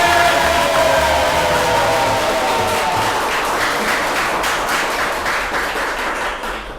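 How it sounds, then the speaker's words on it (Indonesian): Applause from a seated audience at a press forum with senior journalists, a dense burst of clapping that holds steady for several seconds, then slowly thins and fades toward the end. "kasih tepuk tangan Pak dulu. Sukma."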